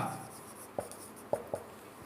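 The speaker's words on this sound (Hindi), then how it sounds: "अब यहाँ पर लिख देते हैं हम गीता" Writing on a classroom board during a grammar lesson: soft, short strokes and three distinct taps over about two seconds, faint and close, with no talking.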